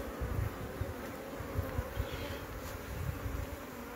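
Bees laden with pollen buzz steadily close by outdoors over concrete, a continuous droning hum with fluctuating intensity and no voices.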